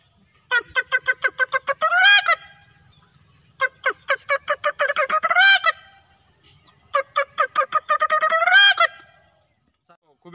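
A man imitates a sparrow's call with his voice, three bursts of rapid chirping notes that climb into a louder squawking trill, each separated by a pause, close and clear.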